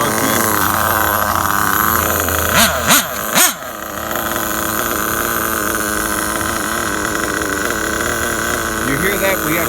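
Nitro engine of a Losi 8ight RTR truggy idling steadily with a continuous buzzing drone, a few brief revs near the start, then settling back to an even idle.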